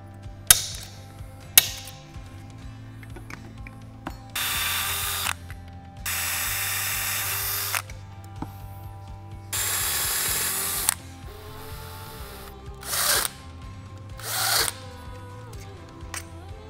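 A power drill bores holes in aluminum brackets for a homemade vacuum table, several loud close whining bursts of a second or two separated by pauses with clanks and tool handling.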